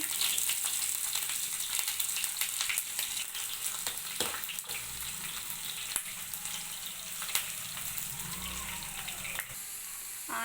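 Steady crackling sizzle of onions frying in hot oil with cumin and mustard seeds, continuous and close, with a few sharper pops and faint clinks along the way.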